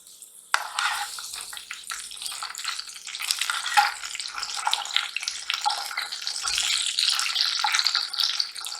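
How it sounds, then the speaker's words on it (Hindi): Potato pieces fry in hot oil for an egg and potato curry, giving a steady, close crackling sizzle that starts abruptly and stays dense throughout, with no talking. "अब ये तेल में चला जाएगा। इसको हमें फ्राई करना है तेल में।"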